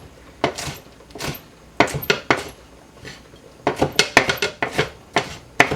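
Knife chopping a pepper into small chunks on a cutting board, irregular bursts of crisp, close taps, sometimes in quick clusters of three or four, with short pauses between and no talk.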